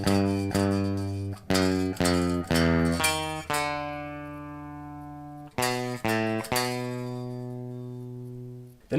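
Guitar riff section played on open and fretted low strings, quick picked note clusters followed by long ringing held notes, clean and up close, without speech.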